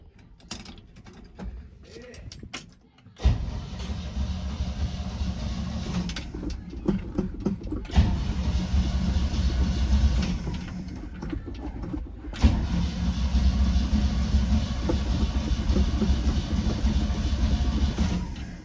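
A car engine cranks repeatedly without catching, with rhythmic mechanical churning in several long bursts separated by brief pauses, close and fairly loud, with faint voices around it.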